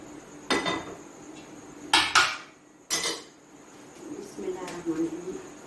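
Chopped tomatoes are stirred into a raw Peshawari chapli kabab mixture in a bowl, with a few loud clattering knocks of a utensil against the dish, then softer squelching mixing toward the end.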